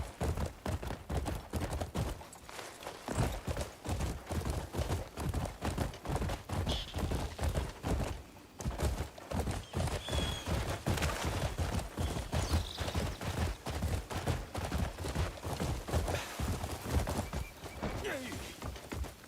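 Horse hooves galloping in the Crimson Desert video game, a steady, rapid clip-clop of strikes that runs almost without a break and stays fairly close and moderately loud.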